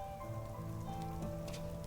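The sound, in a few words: rain falling, from the video game Night in the Woods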